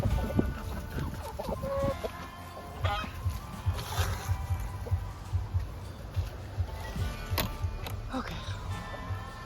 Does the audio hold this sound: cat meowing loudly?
no